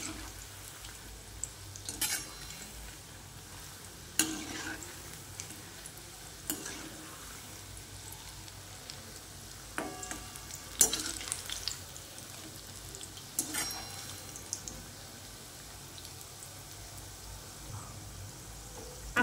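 Bhaji fritters frying in hot oil with a soft, continuous sizzle, broken by occasional clinks and scrapes of a utensil turning them in the pan.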